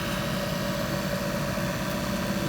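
A Mercedes 190SL engine runs at a steady, elevated idle during a distributor timing test, a continuous even drone with a constant low hum, close and unbroken with no voices.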